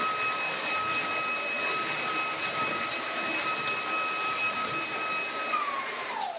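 Shark ICZ160UK cordless stick vacuum running on boost over a hard floor, a steady loud motor whine with high tones held throughout, pitch dropping as it powers down at the very end.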